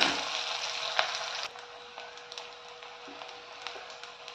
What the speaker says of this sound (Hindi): इन सबों को अच्छे से भूनूंगी।